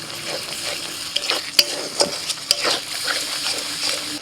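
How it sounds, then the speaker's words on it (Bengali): Spice paste with tomato sizzling and frying in a pan while a spoon stirs and scrapes through it, with occasional sharp clinks against the metal, close up and continuous. "মশলাটা ভালো করে কষিয়ে নিয়েছি, মশলা থেকে একটু তেল ছাড়া ছাড়া হয়ে গেছে।"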